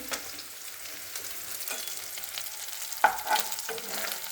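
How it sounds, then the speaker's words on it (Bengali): Steady sizzling of jackfruit frying in a pan, with a few sharp clinks and scrapes of stirring partway through. "কাঁঠালটাকে ভাজছি"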